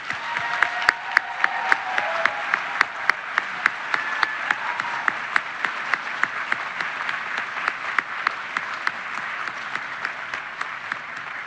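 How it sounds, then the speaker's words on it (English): Seated audience at a university college of education's spring teacher pinning ceremony claps steadily and evenly for the full stretch, a dense sustained ovation with sharp individual claps poking through, no voices over it. "please join me in another round of applause celebrating our Bearcat teachers"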